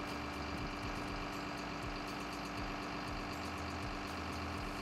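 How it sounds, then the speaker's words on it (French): A Komatsu D61PXI-24 crawler dozer idles steadily with a deep, continuous engine rumble and an even mechanical drone that holds unchanged throughout, close and loud with no voices. "Il est nécessaire de laisser l'engin au ralenti pendant 3 minutes avant de couper le moteur."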